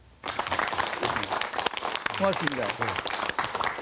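An audience in a television studio applauds to welcome a guest, a former Minister of Government Legislation, with steady dense clapping throughout and a voice speaking briefly over it.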